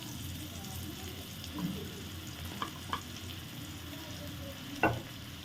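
Finely chopped large onion frying in oil in a kadai makes a steady, close sizzle with a low rumble underneath, broken by a few sharp clinks and scrapes of stirring.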